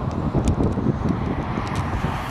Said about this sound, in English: It's mad windy out here, too.